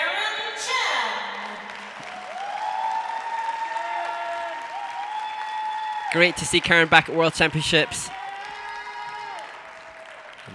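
Arena crowd at a figure skating world championship claps and cheers for a US ladies' skater, with a burst of louder whoops and shouts midway, while a commentator talks over it.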